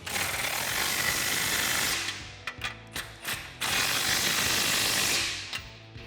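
A ratchet wrench clicks rapidly as it tightens bolts on a Smittybilt XRC Gen2 front bumper on a Jeep Wrangler JL, in two long bursts with a few short separate clicks between them, close and clear with no talk.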